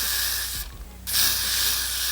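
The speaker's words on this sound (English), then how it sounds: "I'm just going to apply a little bit of Gotta Be Glue spray" A short hiss of Gotta Be Glue adhesive spray is applied to a strip of clear lace during a wig install, a single close burst lasting about half a second against a steady background hum.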